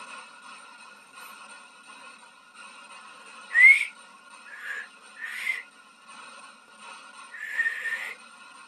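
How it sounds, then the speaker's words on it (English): A few short, breathy whistled notes come out hesitantly against a quiet background, spaced apart with soft hiss between them. "I don't actually know how to whistle, really."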